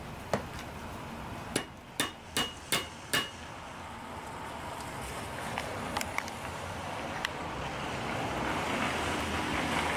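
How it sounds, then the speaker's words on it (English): A hammer drives a tapered pin into a vintage Snapper riding mower with an 8 hp Briggs and Stratton engine. There is one early knock, then four sharp metallic strikes in a quick even rhythm, and a few fainter taps later, set against steady outdoor wind noise. "that's the side we'll try and hammer in here"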